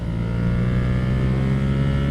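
An A2-restricted 47.5 hp twin-cylinder motorcycle pulls hard in second gear, its engine a dense, loud, continuous roar throughout with no voices.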